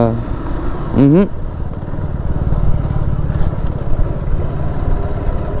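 A motorcycle engine rumbles nearby and drones steadily, with a brief rising whine partway through; no one speaks.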